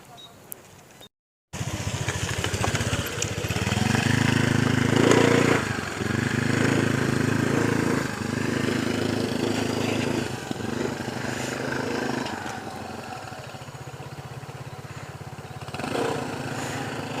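A motorcycle engine drones steadily at close range at the Cisomang bridge, its rumble rising and falling, with voices talking over it.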